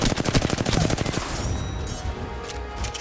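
Rapid automatic gunfire in the video game Apex Legends, a fast burst of sharp repeated shots for about a second, then fading into a quieter tail with faint scattered effects.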